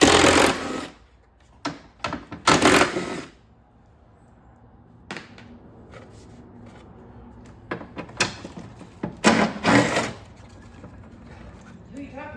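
A power drill backs screws out of a damaged auction car, with several loud bursts of whirring separated by pauses, mixed with clunks and a person talking nearby.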